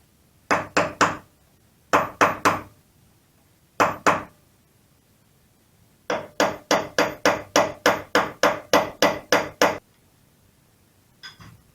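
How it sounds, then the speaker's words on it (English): Sharp metallic hammer blows on a punch against a tab washer on a BMW F650 GS front sprocket, in bursts: a few quick strikes, pauses, then a long steady run of about a dozen evenly spaced taps, loud and close. "I'm going to go around that with a punch and a hammer, really push that back"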